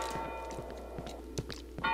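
A bell chimes in the horror video game Cry of Fear, a thin ringing tone that sounds briefly at the start and again near the end, with soft footstep-like thuds in between and no speech.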